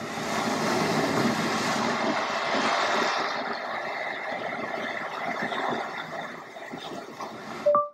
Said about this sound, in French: C'est le bruit de l'océan.